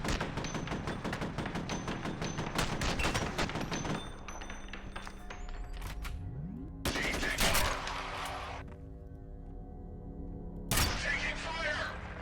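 Rapid bursts of gunfire from the first-person shooter F.E.A.R., loud volleys and single shots with thuds, running near-continuous at first, then breaking into separate sharp bursts with quieter gaps.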